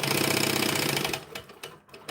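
A sewing machine runs with a rapid, even mechanical chatter for about a second, then stops, leaving a few scattered clicks and handling noises.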